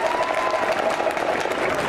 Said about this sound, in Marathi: करा की पवार साहेबांसाठी टाळ्या.